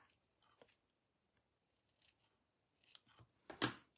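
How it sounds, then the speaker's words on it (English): Snips cut through a piece of ribbon at close range with a few quiet, crisp snipping clicks and a louder final snip near the end, set against near silence. "So we're going to take a piece of the ribbon first, and we're going to have that go across the box, kind of like that. So I'll just grab my snips."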